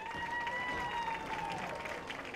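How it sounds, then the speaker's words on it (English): Crowd applause for high school seniors at a school awards ceremony, steady and fairly distant clapping throughout, with a faint tonal whine above it. "Let's give them a round of applause, all seniors"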